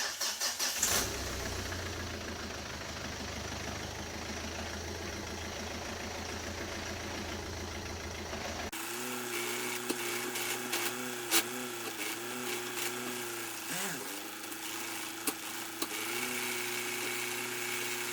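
A Peugeot HDi diesel car engine cranks and catches partway through, then settles into a steady, close idle with a low rumble and occasional faint clicks; no talking.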